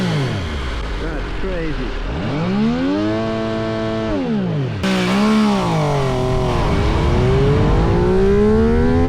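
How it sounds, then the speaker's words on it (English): An MV Agusta F3 motorcycle revs hard on launch control, its high engine note sweeping up and down in repeated loud, sustained bursts close by, with a person speaking briefly over it. "I gave launch control a try, which looked awesome, but I chickened out when I saw how high it was revving"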